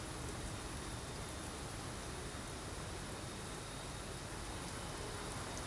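Heavy simulated rain at Phuket in the X-Plane 12 flight simulator, with a Boeing 737-800 on approach in strong wind: a dense, steady roar of rainfall, uniform and unbroken throughout.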